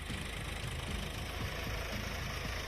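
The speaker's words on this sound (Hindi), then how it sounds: "ट्रैक्टर चल रही है" A tractor runs in a sunny farm field in Sikandrabad tehsil, Bulandshahr, Uttar Pradesh, during harvest. A steady low engine rumble with a knocking, idling throb, fairly faint, with no talk.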